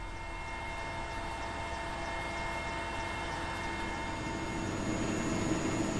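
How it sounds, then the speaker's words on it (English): A warlord's helicopter in flight over northern Afghanistan gives a steady, loud engine and rotor drone from inside the cabin, with a constant hum that swells slightly toward the end and no voices. "We flew there in a warlord's helicopter."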